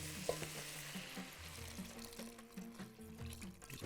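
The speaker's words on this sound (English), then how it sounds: "Going to add water." Water poured into a pan of sizzling beef or mutton, a steady frying hiss with a rush of liquid and faint clinks, close and alone with no talking.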